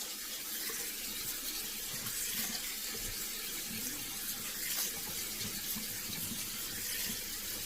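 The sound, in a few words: rinsing pasta under a running tap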